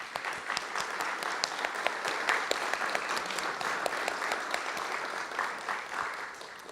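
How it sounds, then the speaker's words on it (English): An audience applauds the bartender at an awards annual meeting, with steady, sustained clapping, the scattered individual claps blending into a continuous patter. "can we give a round of applause to our bartender, Big Ui's, and Saffron Patch?"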